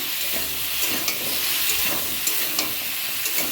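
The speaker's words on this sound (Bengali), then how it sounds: "এটা এখন একটু ভাজবো ভেজে ভেজে তারপর একটু জল দিয়ে দেবো" Food frying in a pan with oil, giving a continuous dense sizzle up close, broken by faint periodic clicks of a spatula, with no voices.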